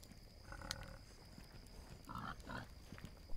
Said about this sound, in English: See, these damn pigs.